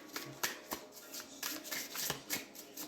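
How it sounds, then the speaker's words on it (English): A deck of magic cards is shuffled up close, with quick riffling snaps and soft slides repeating in irregular bursts and no talking. "Let me just shuffle a little bit more here."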